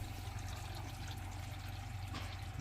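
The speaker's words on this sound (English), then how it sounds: "We've got water flowing through the unit." Water flows steadily through a SimPure T1 400 RO filter system, a constant rushing hiss with a low hum and no pauses, fairly faint and close.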